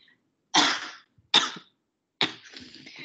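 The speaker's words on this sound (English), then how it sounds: "Sorry, I get a cough." A lecturer coughs three times in short, sharp bursts, each separated by a brief silence, close and clear.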